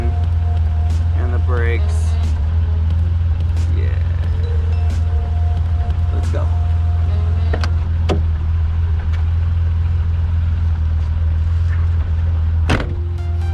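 A BMW E24 coupe with a swapped engine, manual transmission, suspension and brakes: a steady low engine drone runs throughout, with power-window whirs, clicks and door thumps on top and a brief spoken phrase.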